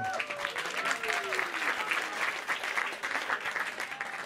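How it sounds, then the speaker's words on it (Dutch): Audience at a live election debate applauding, a steady dense clapping from a crowd, fairly close, lasting the whole stretch with a voice briefly heard at the start. "Even een applaus voor ze."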